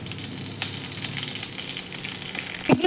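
Curry leaves, mustard seeds, onion and dry red chillies crackle in hot oil for a tempering, giving a steady, close, dense sizzle with small pops and a slight stir near the end; no one talks.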